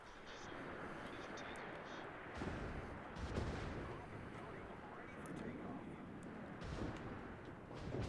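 Gunfire against ships in the naval game Supremacy League comes as muffled booms and rumbling blasts over a dense, noisy battle bed, with a few sharper cracks and no clear pauses.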